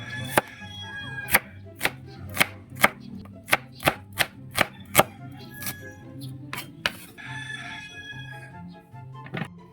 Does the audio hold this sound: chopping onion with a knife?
yes